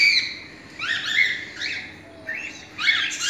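Cream-coloured cockatiels, a pair, give repeated sharp squawking calls and chirps in bursts, fairly close and loud, with short pauses between.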